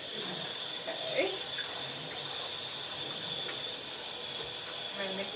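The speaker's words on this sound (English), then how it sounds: "let's just rinse you off." Kitchen faucet running steadily as dishes are rinsed in a sink, a constant hissing water stream with faint clinks, no clear speech over it.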